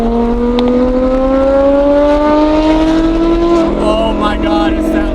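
A Porsche with a Metzger engine revs loudly while driving, its strong harmonic howl climbing steadily in pitch before a shift, with people talking over it.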